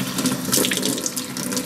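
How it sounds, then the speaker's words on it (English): A faucet is opened fully and water rushes out at full speed, a loud, steady, close hiss and splash that continues unbroken, with no talking. "This is my faucet running at full speed."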